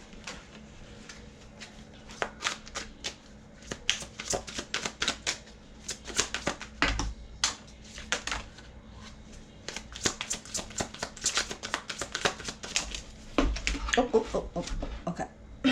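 Tarot cards are shuffled in quick, irregular riffling bursts up close, with a soft thump of a card dropping to the floor near the end.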